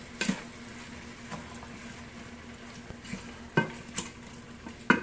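A spoon scrapes and stirs butter through a shrimp sauce for camaron enchilado in a pan, with soft sizzling underneath and a few louder clinks against the pan.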